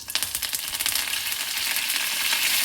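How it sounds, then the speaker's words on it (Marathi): Curry leaves hit hot oil already holding mustard seeds and cumin, crackling and sizzling loudly and densely up close, with a bright continuous spitting hiss. "कढीपत्ता टाकत आहे"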